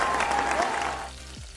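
Pre-cooked cassava bollitos fry in hot oil at medium heat, a dense crackling sizzle that fades toward the end, with a brief voice over it.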